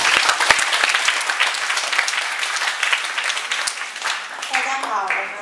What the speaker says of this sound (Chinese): 同学也热烈掌声欢迎他们。